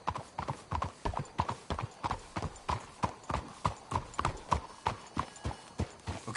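Horses' hooves clip-clop in a steady, brisk rhythm of close, sharp strikes, a team on the move in the Red Dead Redemption 2 video game, with no talk over it.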